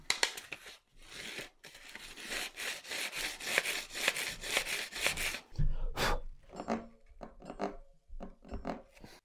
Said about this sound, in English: Never put sandpaper on your tire and rub it past the arch.